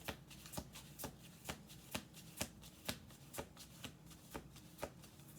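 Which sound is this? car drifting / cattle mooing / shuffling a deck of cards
shuffling a deck of cards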